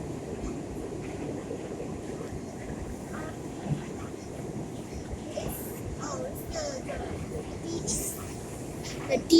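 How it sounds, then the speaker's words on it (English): A New York A subway train rides the rails, a steady low rumble and rattle inside the car, with scattered squeaks and clicks and a voice talking over it. "Oh, I see a train next to us, but it's not on this side, it's on the other side."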